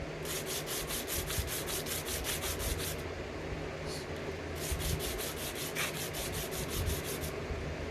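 A file rounds the edges of a guitar nut in steady, even back-and-forth strokes, a soft continuous rasping with a short pause midway, close and fairly quiet.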